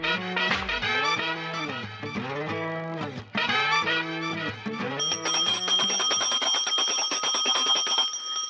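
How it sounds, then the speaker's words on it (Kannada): An electric school bell rings with a sustained metallic jangle in the final few seconds, loud and continuous, after a stretch of dense musical sound in a television studio setting. "ಅದು ಸ್ಕೂಲ್ ಬೆಲ್ಲು."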